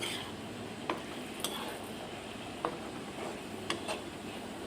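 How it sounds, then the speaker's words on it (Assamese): A spoon stirs vegetables in a pot of Assamese taro fry, a few soft scattered clinks and scrapes over a quiet, steady low sizzle, with no talking. "এতিয়া পুনৰ ঢাকোনখন আঁতৰাই চব্জিখিনি অকণমান লৰাই দিম"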